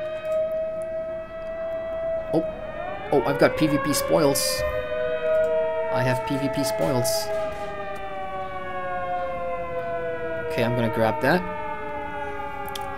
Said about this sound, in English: I do apologize for the siren in the background.